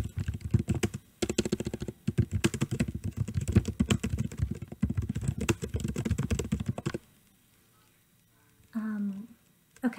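Fast, close clatter of keys on a computer keyboard for about seven seconds, loud and continuous, followed by a lull and a short stretch of a voice.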